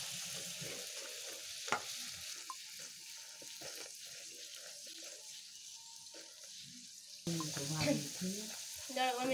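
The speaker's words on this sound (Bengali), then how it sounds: "আমাদের সন্ধ্যাবেলার যে খাবার সেটা তৈরি হচ্ছে, দেখতে পাচ্ছেন লুচি। আপনারাও ভেজে ভেজে খেয়ে নেন।" Luchi, a puffed flatbread, deep-frying in oil at an evening winter meal, with a steady sizzle throughout, a sharp clink near the start and louder bubbling frying toward the end.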